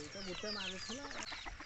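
Chickens cluck near a fish pond in a rural setting, a few short pulsed clucks close by, heard against a steady background hum.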